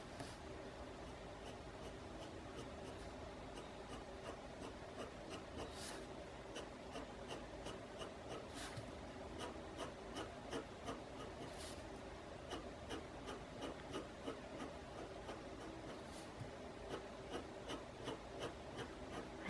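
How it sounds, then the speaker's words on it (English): Pen shading and coloring on paper, a steady scratchy rubbing with rhythmic quick strokes and soft taps repeating throughout, close and quiet with no talk. "You could shade using the pen instead of the pencil."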